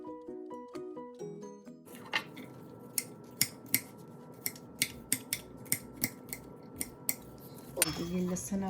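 A knife slices garlic lengthwise on a board for a Pakistani carrot pickle, giving about a dozen crisp, evenly spaced chops close up after a brief musical tone at the start.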